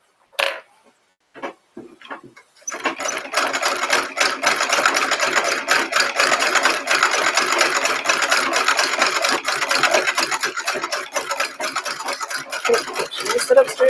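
A sewing machine stitches a rolled hem, its steady mechanical whirring running close and continuous after a few brief clicks and taps at the start.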